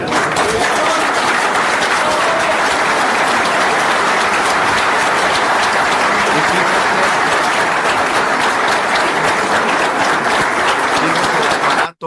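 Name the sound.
audience applause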